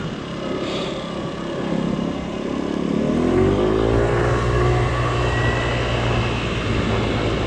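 A Baotian Classic 50cc scooter runs at full throttle on a top-speed run: a steady, loud engine drone climbs in pitch around the midpoint, then holds a sustained high buzz, with road and wind noise and no talking.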